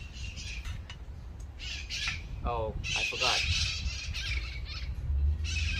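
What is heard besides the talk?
parrots squawking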